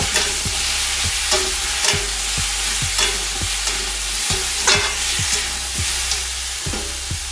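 A spoon scrapes and knocks rhythmically around a frying pan while salted vegetables cooked in sunflower or groundnut oil sizzle softly underneath. The strokes are close and evenly spaced, roughly two per second, with no talking.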